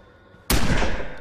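A sudden loud crack of firecrackers going off in the zombie survival video game State of Decay, a single sharp burst that booms and then decays over a second after quiet.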